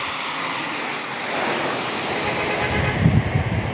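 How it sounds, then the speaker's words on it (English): A Southwest Boeing 737 jet airliner with winglets passes at San Diego International Airport, its engine roar swelling into a broad, loud rush that grows stronger toward the end, with no talking over it. "All right, we get another Southwest 737 here next with the"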